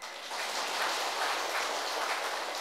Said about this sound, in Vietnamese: Rồi, tròn tràng pháo tay.